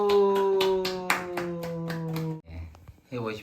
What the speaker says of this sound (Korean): 성공 박수